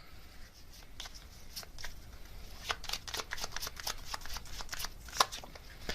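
Tarot cards shuffled and drawn in a continuous run of soft riffling and flicking, with a sharp card snap near the end, fairly close and moderately quiet.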